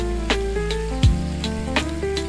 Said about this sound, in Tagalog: Ating igisa ang mga pinong pagkakahiwa ng bawang. Pagkatapos, isunod ang toyo.